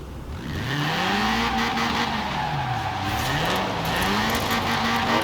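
A Ferrari racing in Forza Horizon 4, its engine droning steadily with the pitch rising and falling as it shifts and revs, tires hissing over the road throughout, loud and close with no talking.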